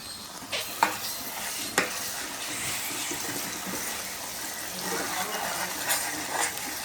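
Andhra-style chicken kurma with coconut and potato being stirred in a pan, a gentle sizzle under repeated scraping and occasional metallic taps of the spoon, close by.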